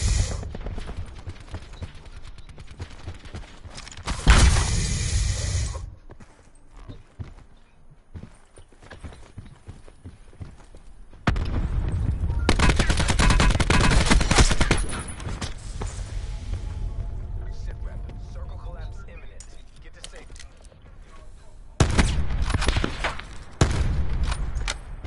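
Video game gunfire in rapid bursts, loud volleys that come and go across the stretch between quieter gaps, with no talk.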